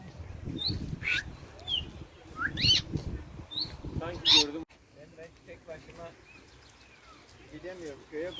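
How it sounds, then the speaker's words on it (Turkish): Birds give short, high chirping calls several times at Sera Lake near Trabzon, heard over people talking nearby. "Kuş ses çıkarıyor ama göremiyoruz."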